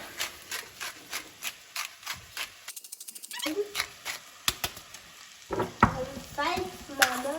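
Seasoning being stirred into food in a pan: repeated rhythmic scraping strokes with a faint sizzle underneath, pausing briefly, then more irregular stirring and clinks toward the end.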